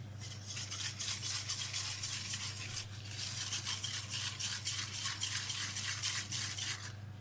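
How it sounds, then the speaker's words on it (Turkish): Melted cocoa stirred in a pot on the stove, a steady scraping and swishing of the spoon in quick repeated strokes over a low constant hum, continuous and close with no talking. "Sonra ocakta kaynayana kadar karıştıracağım"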